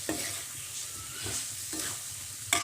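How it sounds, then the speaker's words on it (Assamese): Potatoes and pointed gourd frying with spices in a pan, sizzling quietly at close range while a utensil stirs them in a few distinct scrapes, the last one louder. "আলু পটলখিনি মোৰ এতিয়া মছলাৰ লগত ভাজি হৈ গৈছেগৈ"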